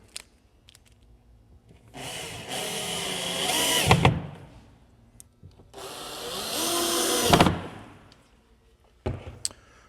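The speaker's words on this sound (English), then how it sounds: "use 2 of the attachment screws to anchor it to the face frame" A power drill drives attachment screws into a wall cabinet's face frame during cabinet assembly, two sustained whirring bursts, each rising in loudness before a sharp stop, close and loud, with faint clicks and handling sounds between.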